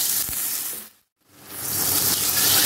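Boneless chicken hits a hot pan with a loud, close, broadband sizzle that briefly cuts out to silence, then returns and swells steadily.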